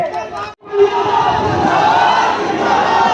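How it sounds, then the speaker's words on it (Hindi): A large crowd at a village political rally in Sharifpur welcomes MP Dimple Yadav with a loud, sustained roar of cheering and shouting, close and continuous after a brief dip. "मैं चाहता हूँ आप लोग का जोरदार तालियों से माननीय सांसद जी का स्वागत करिए"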